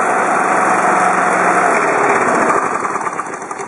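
An Intech overhead valve small engine, low on petrol, runs steadily at a close, loud idle, its drone settling into a slightly rougher, uneven beat near the end.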